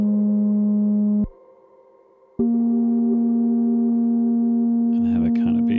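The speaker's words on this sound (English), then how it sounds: "All right, that's a melody. So it's just playing random notes right now." A small modular synthesizer sounds sustained pure electronic tones, one held note jumping to another after a brief near-silent gap, with a faint flutter of quicker chirps toward the end and no talking.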